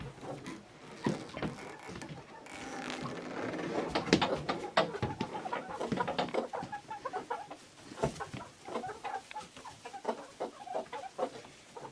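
Backyard barnyard-mix hens about sixteen weeks old cluck and murmur inside a hen house, a dense, continuous chorus of close, overlapping calls with a few sharper squawks.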